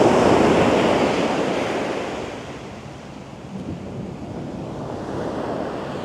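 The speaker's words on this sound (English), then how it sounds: "You can just hear the power of the water rumbling, and there's got to be another really big wave" Big ocean waves at Baker Beach, San Francisco, near the Golden Gate Bridge, give off a loud broadband roar that swells, eases midway, then builds again, with wind buffeting the microphone and no voices.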